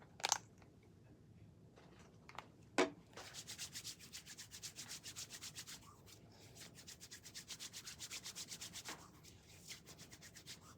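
Hands rubbed together for hand hygiene during an IV skills exam, making soft, close, rhythmic swishing strokes that continue steadily after a couple of sharper knocks near the start.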